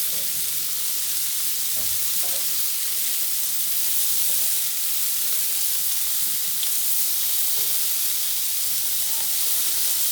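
Burger patty and bacon sizzle steadily on a hot griddle, a loud continuous frying hiss with faint scraping and stirring touches throughout.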